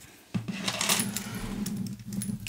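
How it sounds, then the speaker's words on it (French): A small metal jewellery ring is pried open to attach a shrink-plastic charm, producing a sharp metallic click followed by light, close tinkling and clinking. "Je n'ai plus qu'à mettre la breloque. Donc je vais venir ouvrir mon anneau."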